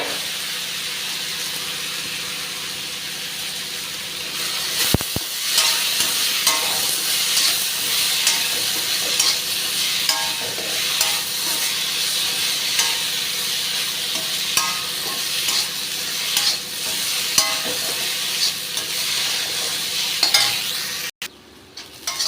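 Cut green plantain being sautéed in a pan with turmeric and chili powder, a steady close sizzle and hiss with occasional stirring scrapes throughout, and a brief sharp knock near the end.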